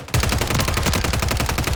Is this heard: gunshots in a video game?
yes